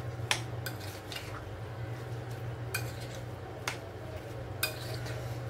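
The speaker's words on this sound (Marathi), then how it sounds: "हे सर्व मसाले घालून आपल्याला मिक्स करून घ्यायचे।" Spices are mixed into raw mango pieces for morambа, a spoon scraping and clinking against the pot in a few sharp strikes over a quiet low hum.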